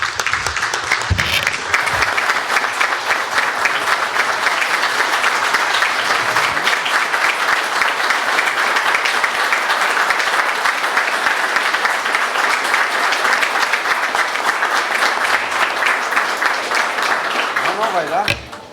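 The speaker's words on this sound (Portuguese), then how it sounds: "peço a permissão, para uma salva de palmas para essas pessoas que botaram a sua vida em risco" A sustained round of applause fills a legislative chamber, many hands clapping densely and evenly at close range for the whole stretch before it cuts off abruptly, with a few voices briefly audible near the start.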